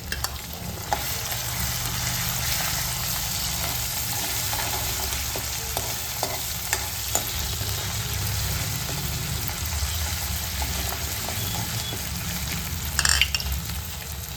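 Ginger and green chili paste frying and being stirred in a pan for tuver totha, giving a steady close sizzle throughout with scattered spoon scrapes and clinks.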